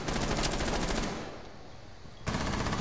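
Sustained automatic gunfire in Rainbow Six Siege, loud rapid bursts that stop for about a second, leaving a fading rumble, then resume abruptly.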